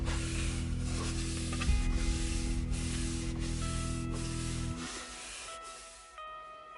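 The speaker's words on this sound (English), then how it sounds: "I'll be using this Danish oil finish just to protect the wood and give it some shine" A cloth rubs Danish oil onto a cheap poplar hobby board in soft, repeated swishing strokes, close and quiet, the rubbing tapering off near the end.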